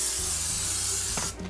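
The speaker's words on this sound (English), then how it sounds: "spray it with nonstick cooking spray" Nonstick cooking spray hissing from a can into a Van Casso 3.17 quart casserole dish, one steady close burst lasting just over a second before cutting off.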